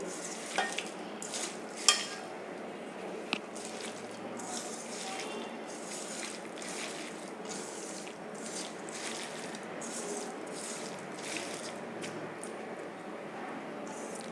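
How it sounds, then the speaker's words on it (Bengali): Bare hands knead and squish mola fish curry ingredients in a bowl, a soft continuous wet mashing with occasional light clicks, close and moderately quiet, with no talking. "এবার আমি মাখিয়ে নিচ্ছি ভালো করে মাখিয়ে নিলে তরকারির স্বাদটা দ্বিগুণ বেড়ে যায় হাতে মাখানো তরকারি"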